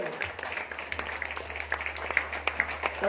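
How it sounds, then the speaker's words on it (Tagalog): A church congregation claps during a Christmas service, a dense wash of hand claps with scattered sharper slaps rising toward the end, heard over a steady low hum. "Malakas na palakpak."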